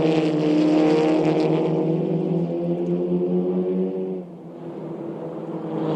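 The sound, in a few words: SEAT Leon Eurocup race cars at Nürburgring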